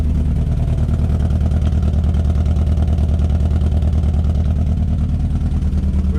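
A steady, rumbling engine of a rare classic Ford car idles continuously at close range, its low throb running evenly throughout with no speech.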